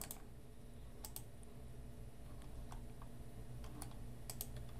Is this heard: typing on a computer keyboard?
yes